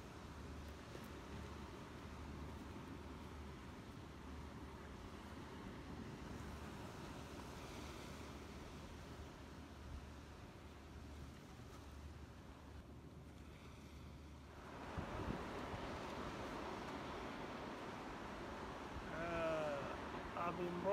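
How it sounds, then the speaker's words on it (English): Atlantic Ocean waves wash steadily on the seaside in Ghana, a continuous rushing surf mixed with wind buffeting the microphone, rising slightly toward the end. "Vlogmassing through the sea, through the Atlantic Ocean,"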